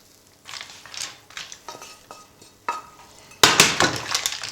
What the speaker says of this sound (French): Je mélange bien l'ensemble.